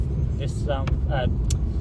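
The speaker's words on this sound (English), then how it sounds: "Right, so we are now driving." A car driving on a road toward town, with steady low engine and road rumble throughout, moderately loud and close, while a person talks over it.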